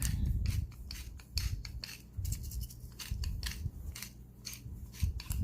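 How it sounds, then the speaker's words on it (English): Whole peppercorns being ground by hand, likely in a pepper mill, giving a close, steady gritty rasping with repeated short crunching bursts and no talking. "we're using whole pepper, so you want to grind it up"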